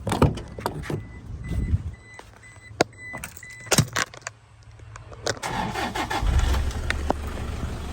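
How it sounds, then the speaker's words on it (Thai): A Toyota Hilux Vigo Champ 2.5 VN turbo diesel pickup from 2013, with a slightly weak battery, starting up: sharp clicks and clunks, then the starter cranks and the engine catches and settles into a steady, rumbling diesel idle. "มาที่นี่เดี๋ยวเรามาฟังเสียง เครื่องยนต์กันหน่อยนะครับเดี๋ยวผมสตาร์ทให้ฟัง"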